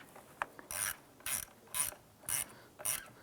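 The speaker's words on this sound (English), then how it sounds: "Use your 8mm socket to go ahead and snug this down." A ratchet with an 8mm socket tightens the ground terminal nut on a 2005-2007 Ford Five Hundred, five evenly spaced bursts of rapid clicking, close and crisp, with quiet gaps between strokes.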